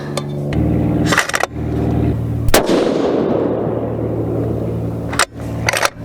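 A 7mm PRC rifle fires a Berger 175g Elite Hunter load, one sharp loud close report followed by a long decaying boom, with a few clicks and knocks around it.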